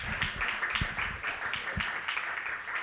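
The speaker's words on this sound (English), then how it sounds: "can we now do a proper round of applause?" A seminar audience gives a round of applause, a soft, fairly distant wash of clapping that carries on steadily, with a few low thumps mixed in.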